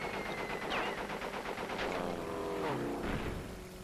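Rapid bursts of in-game gunfire from Crash Bandicoot 3: Warped, loud and continuous with a rattling machine-gun rhythm alongside game effects, and no talking.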